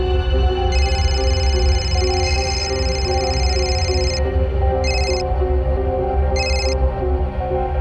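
A telephone rings in a repeated electronic tone, with long sustained bursts followed by shorter ones, heard over a dense layer of dramatic background music.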